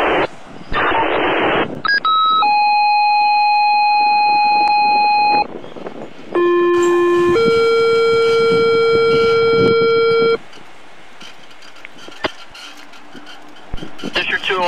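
Fire department dispatch alert tones on a radio for a possible electrical fire: a loud burst of static, then long steady multi-pitch tone blocks held several seconds each, with a voice briefly over radio noise afterward.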